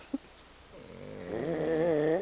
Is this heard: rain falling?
no